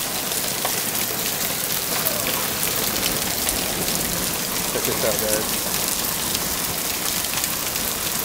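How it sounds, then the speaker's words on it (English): Heavy rain pours steadily during a hailstorm, a dense, loud wash of drumming drops with no letup; a person speaks briefly over it. "It is raining extremely hard,"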